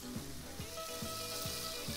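Pork cubes frying in hot oil in a pan, a steady sizzle with repeated short stirring or scraping strokes at an even rhythm, close and moderately loud, no talking.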